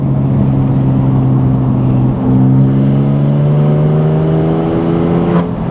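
A Porsche GT4 RS engine pulls hard under acceleration, a loud close-up drone whose pitch climbs steadily through a gear with layered harmonics, heard alone without talk.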